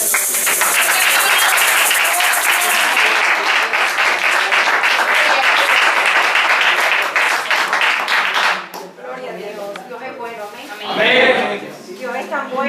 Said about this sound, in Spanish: Gloria, denle un aplauso.